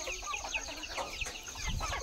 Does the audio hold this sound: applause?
no